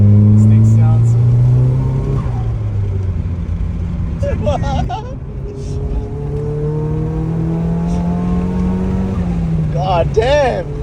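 A Nissan S14 accelerates hard on a road near the Westgate Bridge, its engine note climbing through gears as a loud, steady, near drone with rising pitch sweeps, while people talk over it inside the car.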